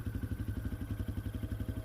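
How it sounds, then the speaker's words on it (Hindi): A motorcycle engine in an animated horror story runs with a fast, steady, pulsing low rumble, faint and even throughout, with no speech. "राघव ने बाइक की स्पीड और बढ़ा दी।"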